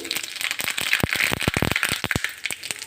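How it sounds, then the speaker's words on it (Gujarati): Mustard, cumin and sesame seeds crackle and pop in hot oil for a tempering, with sharp, loud, irregular bursts close by and no talk. "થોડું જીરું અને તલ એડ કરી દઈએ"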